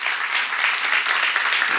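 A Korean church congregation bursts into dense, loud applause during a seminar sermon, many hands clapping together in a brief, continuous roar.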